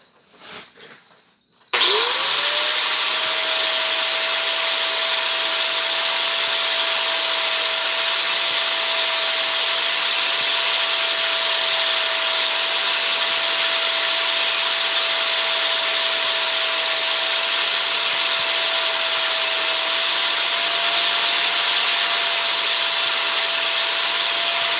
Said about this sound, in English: let me sharpen this tip again